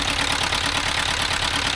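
Engine idling with a steady, rhythmic knocking pulse, close and fairly loud, running alone without talk.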